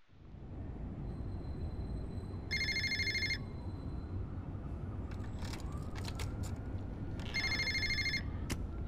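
In the video game Fahrenheit, an electronic telephone ring sounds in two distinct bursts several seconds apart, heard over a low rumbling ambient drone with faint clicks between rings.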